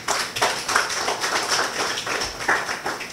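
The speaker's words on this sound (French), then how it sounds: "Et on va saluer cela par des acclamations." Scattered clapping with sharp, uneven claps, like a small crowd applauding briefly at moderate volume.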